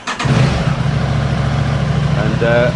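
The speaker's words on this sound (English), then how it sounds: "I'll just start the engine now" An Aprilia RS 660 motorcycle engine cranks and catches, then idles with a steady, loud low rumble that rises slightly at the end.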